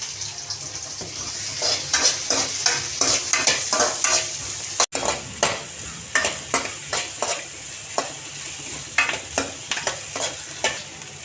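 Chopped garlic fries in hot oil as it is stirred: a close, steady sizzle broken by a regular rhythm of spoon scrapes against the pan, with no talking.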